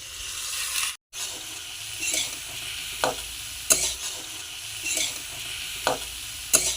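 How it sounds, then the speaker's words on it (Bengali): Turmeric, red chili, coriander and cumin powders sautéing in a pan, a faint steady sizzle broken by repeated close scrapes and taps of a spoon stirring every second or so. "মশলাগুলোকে কষে নেবো"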